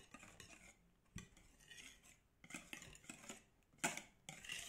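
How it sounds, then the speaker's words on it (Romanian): Cake batter for a lemon-and-vanilla loaf cake being stirred in a bowl with a whisk or wooden spoon after oil is added, giving soft irregular scraping and clinking strokes with a few sharper utensil taps against the bowl. "Amestec cu un tel sau cu o lingură de lemn, cu ce aveți."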